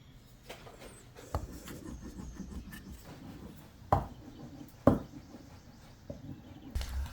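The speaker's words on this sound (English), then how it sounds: "then I roll it down to make sure that it adheres to the wood properly" A roller presses transfer paper down onto a piece of wood with soft rubbing and rolling sounds, punctuated by a few sharp knocks, close up and fairly quiet.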